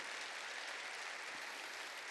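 Applause from a church congregation during a sermon, a steady dense patter of many hands that holds evenly throughout at a moderate, slightly distant level.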